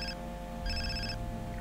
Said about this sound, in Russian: Так, мобильник звонит.